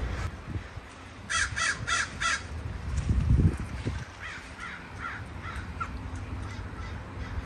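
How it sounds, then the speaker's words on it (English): Crows caw in short repeated bursts, a clear run of about four calls followed by fainter answering caws, over outdoor background noise and a brief low thump. "See all the crows?"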